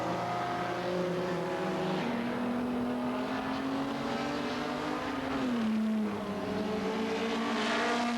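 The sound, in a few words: race cars driving on the Zolder circuit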